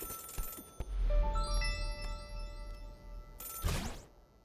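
A telephone ringing in the video game The Celeste Parable: bright chiming tones stack up in a rising ring over a low background hum, then a noisy burst follows near the end.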